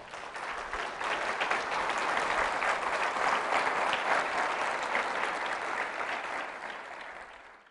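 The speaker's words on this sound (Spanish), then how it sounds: "Dale palmas a Él" A church congregation breaks into loud, sustained applause in worship, rising quickly, holding as a dense roar of clapping hands, then tapering off near the end.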